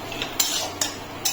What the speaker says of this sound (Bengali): গরম ঘিয়ে নারকেলটাও আমার ভাজা হয়ে যাবে।